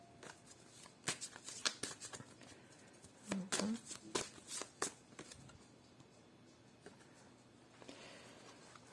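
Oracle cards are shuffled by hand for a new moon reading, with several quick papery riffles and flicks in irregular bursts, close and fairly soft. Someone talks at times.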